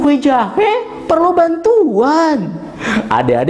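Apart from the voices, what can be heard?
No distinct noise like a dog, phone or traffic.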